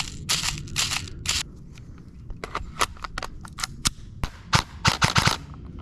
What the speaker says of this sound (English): Let's go ahead and fire up an airsoft gun and see if this guy can actually withstand some shots.